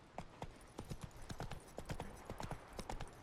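Roach, the horse in The Witcher 3, gallops with a steady, quick clip-clop of hooves, moderately close and continuous, with no talking over it.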